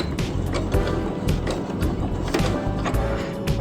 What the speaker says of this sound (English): I'm gonna do one more stitch and now I'm gonna back stitch